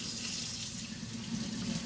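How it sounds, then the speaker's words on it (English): Room-temperature water runs steadily from a sink tap, a continuous close hiss and splash with no pauses and no voices. "it's best to come to a sink where we're going to use some room temperature water"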